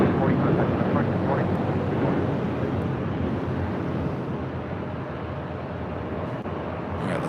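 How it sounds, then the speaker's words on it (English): An Alaska Airlines Boeing 737-900ER takes off from runway 25 right at LAX with a loud, broad engine roar that stays strong throughout and eases only slightly toward the end. "Alaska Airlines Flight 1340 heading to Cancun, a 737-900ER taking off here on the south side at 25 right"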